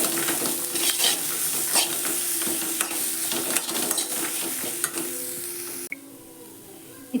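Grated coconut and spices stir-fry together in a pan for a Mangalore-style tomato dish, giving a continuous sizzle with repeated scraping stir strokes, close and fairly loud, until it drops away near the end.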